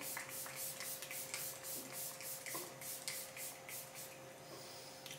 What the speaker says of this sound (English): But I'm going in with my Leary spray.